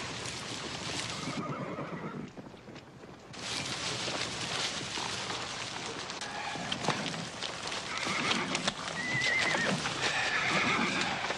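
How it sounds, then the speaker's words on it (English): Horses neigh and whinny several times over the steady clip-clop of hooves, fairly close, with a brief lull near the start. "his string of horses"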